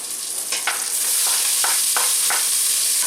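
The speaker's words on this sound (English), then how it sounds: "I'm gonna go ahead and add them vegetables. That's what's gonna get sauteed." Vegetables for a sausage chilli hiss loudly in a hot pan, a dense bright sizzle that swells as they go in, punctuated by several soft stirring scrapes at regular intervals.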